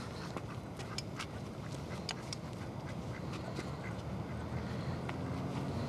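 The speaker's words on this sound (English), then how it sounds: "What a cute duck." Ducks quack in a quick, repeated series of short calls beside water, loud and close over a steady outdoor background hiss, with no talking.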